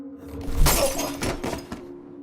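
Glass of a bathroom mirror shatters with one loud crash as a body is slammed against it, followed by a quick scatter of breaking shards and tinkling pieces fading over about two seconds.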